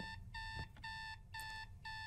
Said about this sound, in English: Why is the alarm going off if it's not even set?